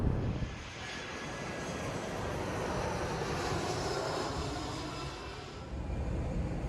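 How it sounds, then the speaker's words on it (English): Airliner passing very low overhead on final approach to Brindisi airport, beside a moored ferry, a loud sustained broadband engine roar that swells and holds for several seconds with no talk. "the planes fly about 10 metres above the ship to land"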